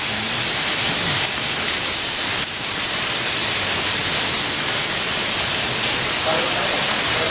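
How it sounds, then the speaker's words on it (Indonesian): The Cikejayaan waterfall in Sancang forest, flowing down over large tree roots, makes a steady, loud, dense rushing roar with no break. "air terjun ini mengalir dari atas ke bawah, tapi melalui akar pohon yang besar ini"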